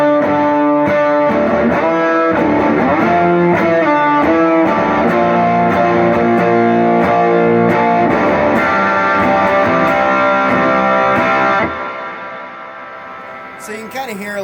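An electric guitar riff played through three stacked overdrive pedals and a plate reverb sounds loud, thick and saturated with ringing chords, then stops abruptly and leaves a fading reverb tail.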